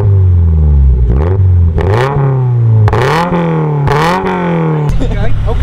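A Volkswagen GTI fitted with an aftermarket downpipe revs hard in four or five loud, close bursts, each climbing in pitch and then dropping back to idle, with people talking over it.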